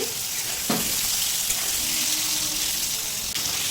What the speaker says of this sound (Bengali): উচ্ছে আলুগুলোকেও একটু লালচে করে ভেজে নিতে হবে প্রায় দু তিন মিনিট সময় নিয়ে